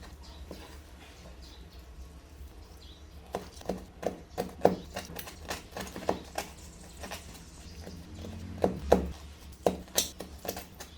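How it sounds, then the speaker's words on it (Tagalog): A knife chops boiled squid into small pieces on a board, with irregular clusters of sharp taps that grow busier midway over a low background hum. "Hiwa-hiwain lang natin na malil maliliit."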